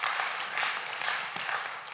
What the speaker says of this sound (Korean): 크게 한번 박수 한번 해주십시오